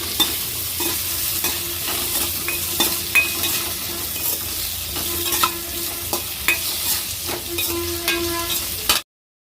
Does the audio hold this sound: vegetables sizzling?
yes